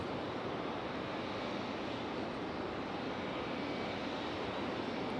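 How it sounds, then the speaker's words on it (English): A CRJ regional jet departs the runway at Raleigh-Durham International Airport, heard as a steady, broad engine roar that holds at even strength throughout, with no voices present. "That CRJ departing now is headed to Nashville, Tennessee"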